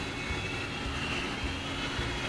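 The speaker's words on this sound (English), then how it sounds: "This helicopter is another counter-rotating helicopter." Remote-controlled counter-rotating helicopter flying at a junior high school STEM event, a steady whirring rotor and motor drone held throughout at moderate distance.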